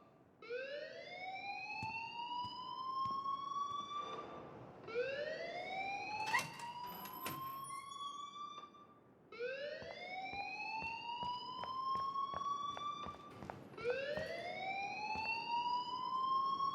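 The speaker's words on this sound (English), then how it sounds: "please turn off that alarm since that's your job" A school alarm in the Life Is Strange video game blares in four repeated rising whoops, each sweep climbing in pitch and then cutting off before the next, loud and steady, with faint clicks between.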